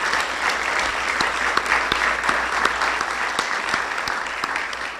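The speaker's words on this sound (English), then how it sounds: "Please, big round of applause for them." An audience at a Town of Miami Lakes event applauds culinary students with full, energetic clapping, a bright, dense patter with a few sharper individual claps standing out close by, holding steady throughout.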